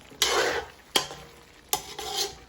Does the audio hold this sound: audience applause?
no